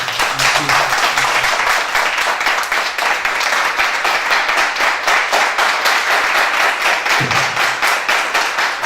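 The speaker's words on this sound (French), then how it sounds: "Et ça s'applaudit, mesdames, messieurs." A live show audience gives loud, dense, sustained applause with continuous clapping, and a voice briefly comes through near the start and again toward the end.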